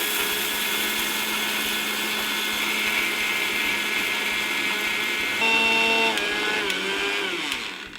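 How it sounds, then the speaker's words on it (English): Roasted dried fish and roasted dried chilies being ground into a fine powder in an electric grinder, a steady whirring motor drone that shifts pitch and winds down near the end, with no talking. "roasted dried fish and roasted dried chilies. Pound them together into a fine powder."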